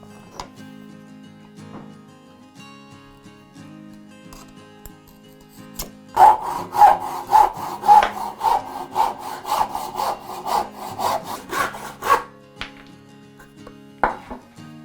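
A hand saw cutting wood to length for a lead holder, a steady rasping back-and-forth stroke rhythm of about a dozen strokes, close and clear after a few seconds of quiet handling.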